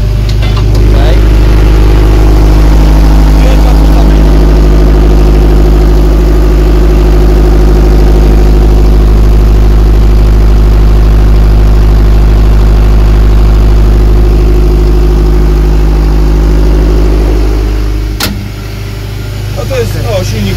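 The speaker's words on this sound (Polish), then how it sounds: "To jest silnik główny, no to tam też nic ciekawego." A big John Deere marine diesel main engine runs at a steady, heavy, loud rumble up close, then drops off sharply near the end.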